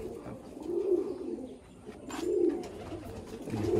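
Pigeons in a loft coo softly, with two or three rolling, throaty coos rising and falling in a slow rhythm, near and gentle, with no voices.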